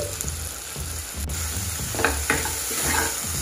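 Tomato curry with turmeric and salt being stirred in a pan, a steady sizzle of frying under repeated scraping strokes of a spoon, close and moderately loud, with no talk.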